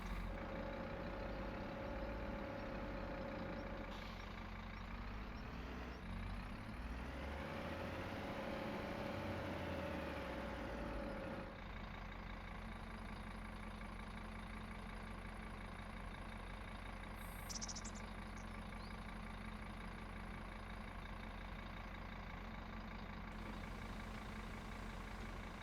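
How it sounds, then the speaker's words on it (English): A tractor pulling a mower runs steadily in Farming Simulator 25, a continuous low engine drone close by with a rising and falling pitch sweep partway through. No voices are heard. "get the mower on"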